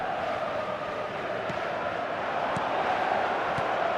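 A steady, dense roar from a simulated stadium crowd in the eFootball video game on PS5 holds evenly throughout, with faint sharp knocks at intervals.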